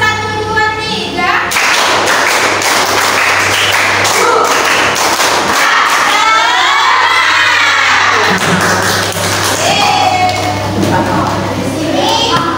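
A classroom of children performs a rhythmic clapping chant during a civics lesson, loud and sustained, with sharp hand claps mixed with chanting and shouting voices throughout.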